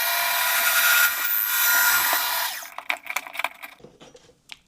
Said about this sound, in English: just want to start the lathe off nice and steady. And we're going to go straight through and hopefully we'll bore out 2 of the blanks